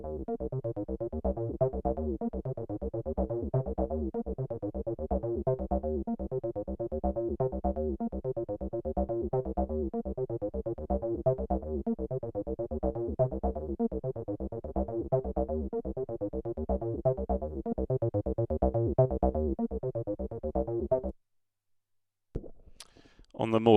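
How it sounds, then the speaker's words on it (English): Synth sequence through a Boss BE-5 multi-effect set for a wide stereo sound: a steady, dense, repeating pattern of mid-low notes plays continuously for about twenty seconds, then stops abruptly. "very cool for synths because it gives you a very nice and wide stereo sound"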